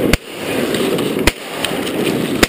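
Falling Sky fireworks going off outdoors, with two sharp cracking bursts over a steady hiss and crackle, loud and close.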